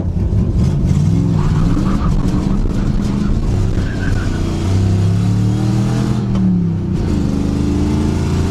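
A cheap Chevy Nova sedan with a V8 engine roars steadily under load while it pulls through the gears, with the pitch rising and dropping at each shift, loud and close throughout.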